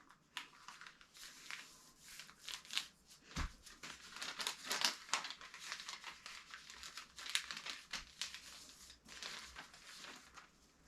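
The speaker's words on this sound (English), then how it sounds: "we're taking it and folding the edges to that center crease" Paper is folded and creased toward a centre fold while preparing to start seeds indoors, giving close, intermittent crinkling and rustling with sharp crisp bursts as the edges are pressed flat.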